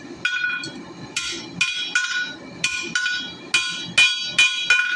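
A hammer strikes hot metal on an anvil while forging a square taper for a dragonfly, eight sharp ringing blows in an uneven rhythm with faint lower thuds between, close and loud with no talk.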